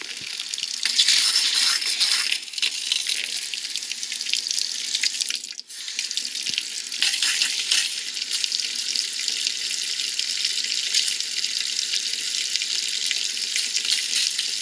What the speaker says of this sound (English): We're going to start on the cold water faucets.